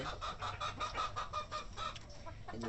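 Farm chickens, egg-laying hens, cluck steadily in a rhythmic run of close, overlapping calls with no one talking.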